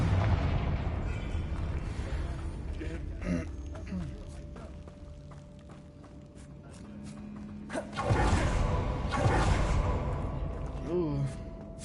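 A fiery Confringo spell explosion from Hogwarts Legacy bursts loudly among ongoing combat booms and whooshes, with characters speaking around the blasts.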